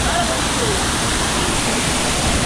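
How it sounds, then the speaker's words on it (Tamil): Water pours in a continuous, loud, roaring rush at the Kodiveri Dam waterfall, heard from inside a tunnel-like rock setting. The roar stays steady throughout with no pauses. "இந்த இடம் வந்து அந்த வாட்டர் ஃபால்ஸ் உள்ளே இருக்குது"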